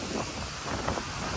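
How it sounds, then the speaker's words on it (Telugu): Strong cyclone wind in Vijayawada buffets the microphone as a loud, steady roar with gusty swells, lasting only a moment. "అంత హెవీగా వస్తుంది గాలి అయితే"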